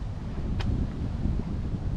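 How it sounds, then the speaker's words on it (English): Gusty wind at a lakeside wilderness campsite rushes in a steady low roar against the microphone, broken by one brief higher swish, with no voices. "the wind is getting windier and windier"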